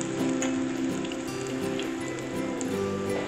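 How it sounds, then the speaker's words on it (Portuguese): Vegetable patties, spooned from a batter, frying in a little olive oil in a pan, giving a steady dense crackle and sizzle that runs unbroken and close throughout, with no talking. "Vamos fritando-as, mas é com pouquinho azeite."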